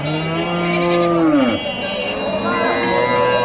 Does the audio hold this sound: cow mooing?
yes